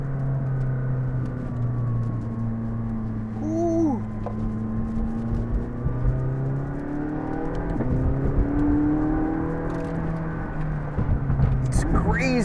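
A McLaren 675LT sports car engine revs and pulls hard in sport mode, its pitch climbing and dipping through the gears, loud and close with steady mechanical whir underneath.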